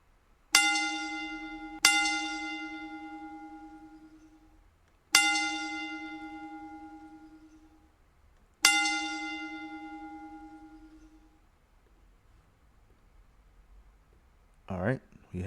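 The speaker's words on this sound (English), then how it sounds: "We'll give him a 3-bell count." A bell is struck four times in a slow, uneven sequence, each strike a clear resonant tone ringing out and fading for a few seconds, marking a moment of silence in a kitchen setting; brief handling noise follows at the end.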